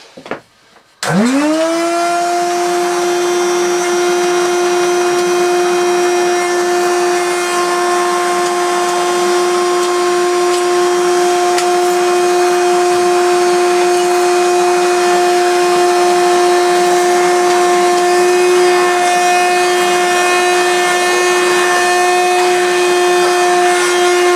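Hoover Celebrity S3005 vacuum cleaner switching on and running on carpet, a quick spin-up into a loud, steady whine that holds for over twenty seconds, no talking.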